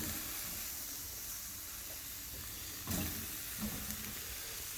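Steaks lie on a charcoal grill at a farm, giving a faint, steady searing hiss with a couple of small pops and bumps, distant and low with no talking.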